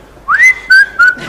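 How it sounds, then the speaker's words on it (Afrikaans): A man whistles a short rising glide followed by two level blasts, close and loud with nothing else heard, the kind of whistle a mechanic gives on opening a car bonnet. "Voor enige vakman kan kwalifiseer, moet hy eers die fluittoets deurkom."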